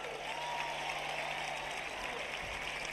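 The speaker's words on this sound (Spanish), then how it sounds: "ese aplausico muy cutre, darles caña" Audience at a live concert clapping for the band's players, an even, sustained spread of distant applause from a big crowd with no voices on top.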